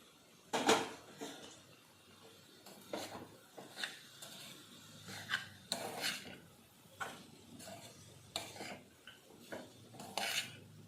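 Avalakki (flattened rice) being stirred into a tempering in a pan, with repeated scraping and clinking of a spoon against the metal at an irregular rhythm, close by and fairly quiet.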